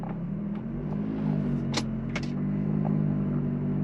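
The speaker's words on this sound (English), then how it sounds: "Just taking a drive in the Ferrari F430." Ferrari F430 engine driving in first gear, a steady low drone heard from inside the cabin, with a few faint clicks and rattles over it.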